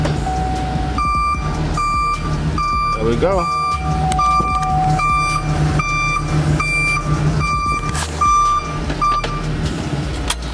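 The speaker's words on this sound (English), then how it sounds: "When you put it in reverse, it should beep like a normal one." A newly installed backup beeper on a vehicle in reverse sounds a loud, regular series of electronic beeps over a running engine, with a person speaking briefly.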